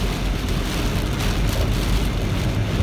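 Steady, dense rain from a heavy Big Bear storm pours down continuously, a broad hiss with low rumble underneath, heard close and loud without any talking.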